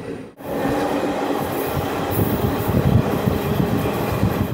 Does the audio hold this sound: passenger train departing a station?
yes